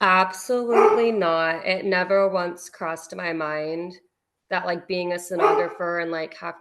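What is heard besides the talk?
dog barking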